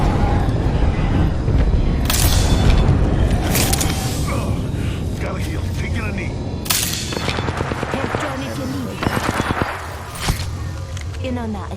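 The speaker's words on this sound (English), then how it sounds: "An airstrike is falling. Incoming grenade." Airstrike and grenade explosions in Apex Legends burst out as several loud, sharp blasts mixed with rapid gunfire, with a voice talking over the combat.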